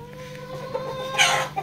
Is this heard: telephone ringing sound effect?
no